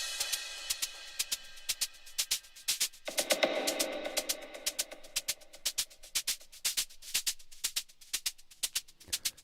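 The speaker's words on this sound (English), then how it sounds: "next group, which is the percussion group," Layered percussion tracks from an electronic music project play back, with steady clicking hits and shakers, a brighter noisy swell of cymbal-like texture entering partway through, then sparse rhythmic ticks continuing to the end.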